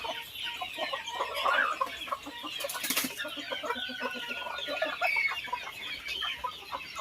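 Village chickens on a rural Thai smallholding cluck steadily at close range, with overlapping calls from several birds and a brief burst of noise near the middle.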